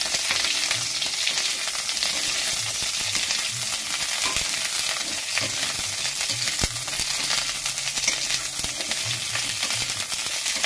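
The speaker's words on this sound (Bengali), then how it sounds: "ফুলকপিগুলো হালকা হালকা লাল করে ভেজে নেব।" Cauliflower florets fry in hot oil for a tilapia and cauliflower fish curry, a continuous close sizzle with bubbling crackle and occasional soft stirring scrapes throughout.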